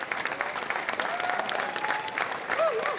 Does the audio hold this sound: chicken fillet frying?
no